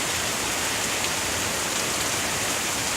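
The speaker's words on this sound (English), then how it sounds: "it definitely looks like the rain has started" Heavy rain from Hurricane Irma falls steadily in Broward County, Florida, southwest of Fort Lauderdale, a dense continuous hiss of downpour on surfaces with no breaks, loud and enveloping throughout.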